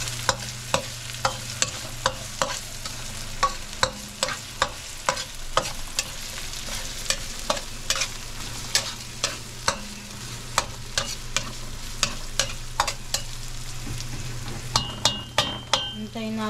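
Ginataan laing, with ginger added, being stirred in a pan: repeated sharp utensil scrapes and clinks over a steady low sizzle, close and fairly quiet.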